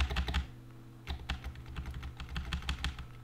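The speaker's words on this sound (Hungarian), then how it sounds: "a billentyűzetnek a nyilaival tudunk lépegetni képkockáról képkockára" Computer keyboard arrow keys are tapped repeatedly to step frame by frame through video editing software, a quick run of close, crisp clicks in an uneven rhythm with no talk.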